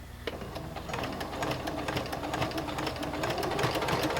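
Domestic sewing machine stitching through a basted jelly roll quilt, a fast steady mechanical clatter of needle strokes, close and fairly quiet, running continuously without pause.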